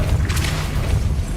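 A Depulso force spell cast in Hogwarts Legacy, one deep booming thump with a brief bright whoosh near the start, heard alone at close range.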